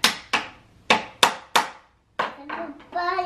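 Five sharp hammer blows land close and crisp at an irregular pace, followed by a pause and then a voice talking.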